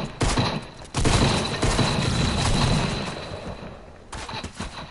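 Dense bursts of video game gunfire crackle almost nonstop, a loud fusillade of rapid shots with brief pauses, close and harsh, dropping off before a final flurry near the end.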